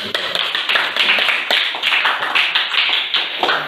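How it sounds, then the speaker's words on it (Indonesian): A classroom of students applauds a presenting group, number three, with dense, steady clapping that continues evenly throughout at close range. "Kalau tidak ada, sekali lagi kita kasih aplaus."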